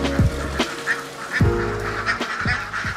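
Alabio laying ducks quack in their pen, several loud, nasal calls close by in irregular bursts, with one prominent quack near the start and more overlapping calls through the middle and end.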